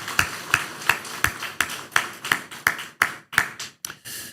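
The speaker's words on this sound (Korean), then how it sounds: "우리 박수로 격려해드리겠습니다." A church congregation at a Korean Sunday worship service claps together in a steady unison rhythm, about a dozen sharp, evenly spaced claps with no talking over them.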